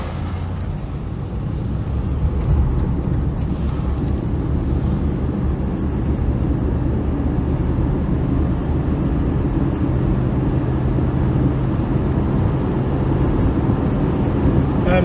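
A 1979 Chevrolet Camaro heard from inside while driving and slowing, a loud steady engine and road rumble throughout with no distinct brake squeal.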